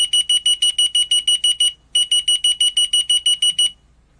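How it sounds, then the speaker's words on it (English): Key finder receiver beeping after its transmitter button is pressed: a rapid train of sharp, high electronic beeps, loud and close, with a brief pause midway before the pulses resume and then stop. "if you press the A button on the transmitter, the A receiver will sound."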